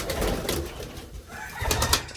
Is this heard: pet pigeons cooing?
yes